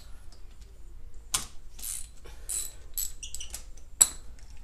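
A wrench works loose a motorcycle spark plug, giving several sharp, close metallic clicks and ratcheting creaks in uneven bursts over near silence.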